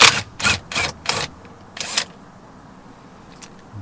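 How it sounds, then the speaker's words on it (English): A 12mm triple square tool works the steering wheel center bolt on an Audi A4, giving a quick series of sharp metallic clicks and ratchet-like snaps, loud and close, then a pause and a fainter final click. "This is a 12mm triple square. For that center bolt,"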